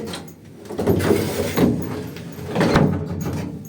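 The door of a prewar Wertheim elevator in a building on Karmelicka street slides and clanks shut, several thuds and metallic rattles over a few seconds, close by and fairly loud.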